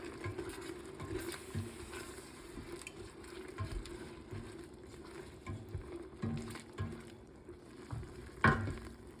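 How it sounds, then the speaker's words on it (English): Turtle meat seasoned with black pepper browns in butter, a soft, low sizzle under scattered scraping and clinking as it is stirred, quiet and close with a few sharper knocks near the end. "Just stir the turtle meat until it's all brown and let this butter almost all evaporate."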